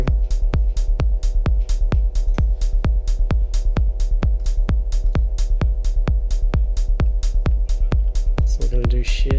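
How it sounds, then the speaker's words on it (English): A synth in a techno track hits in a steady, evenly spaced pulse with a delay effect carrying each note onward, loud and alone throughout. "The delayed sound is kind of cool, how it keeps going."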